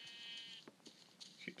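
Sheep bleating in Minecraft on iOS, a couple of short wavering bleats close by, quiet and set against faint game sounds.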